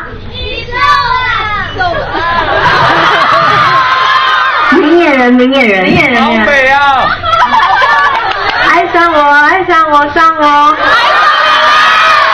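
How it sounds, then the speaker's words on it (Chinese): Fans scream and cheer at a film premiere meet-and-greet for Tiny Times, a loud, continuous crowd roar with shrill shouts, while a voice talks over the din. "四位主创一经亮相，现场尖叫声便不绝于耳"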